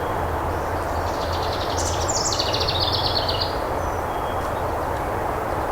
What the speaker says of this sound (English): I could lay here and just listen to the birds